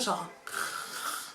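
A person imitates their own very loud snoring with the voice: a brief voiced note, then a long raspy, noisy snore-like exhale, close and fairly loud.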